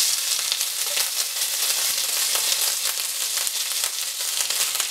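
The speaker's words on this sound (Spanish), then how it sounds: "ahora que ha bajado la temperatura de la sartén, vamos a echar el arroz" Rice sizzles and crackles steadily in a hot stainless steel frying pan, a dense, close frying hiss that holds level throughout with no talking.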